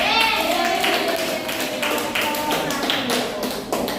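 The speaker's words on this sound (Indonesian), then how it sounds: "tepuk tangan." Classroom audience of students clapping hands at a school lesson, steady dense clapping throughout with some mixed voices and chatter underneath.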